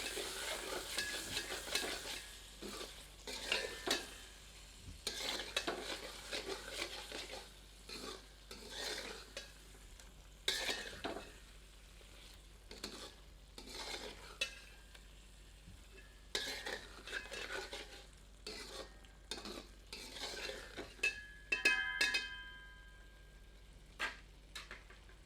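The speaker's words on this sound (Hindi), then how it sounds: "एक बार अच्छी तरह करछी चलाते हैं।" Ladle stirring Himachali chicken anardana in a pan over the heat, with scraping and clinking strokes over a soft sizzle, steady and close with no voices.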